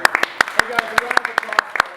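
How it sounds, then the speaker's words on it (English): A small group in a startup meetup audience claps in quick, uneven bursts, sharp close hand claps overlapping briefly with faint room sound behind. "Hey guys, a round"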